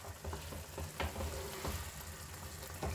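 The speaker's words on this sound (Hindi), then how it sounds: "और अब ऐड करेंगे हम लास्ट में जो हमने आलू फ्राई किए थे। तो सब चीज़ों को अच्छे से मिक्स करेंगे हम" Fried potatoes are stirred into a sizzling masala for Mughlai dum aloo, with a constant frying hiss and several thick scraping spoon strokes at an uneven pace, close and moderately loud.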